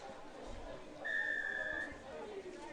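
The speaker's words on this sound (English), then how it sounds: "So that's the referee's whistle," A rugby referee's whistle at an under-16 school tournament match, one sustained shrill blast lasting under a second, heard fairly clearly above distant crowd chatter and field noise.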